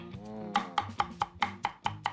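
A cleaver chops lotus root on a board in about seven sharp, evenly spaced knocks, each a crisp close thud with a short ring, following a brief low murmur at the start.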